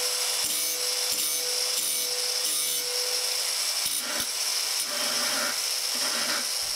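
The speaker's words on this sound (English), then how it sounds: "You'll need to start from the end of the blade this time, so that you can continue to grind in the direction of the bevel." A grinder works along the bevel of a Husqvarna CTH151 riding mower blade, giving a loud, continuous abrasive whine with rhythmic scraping strokes close up.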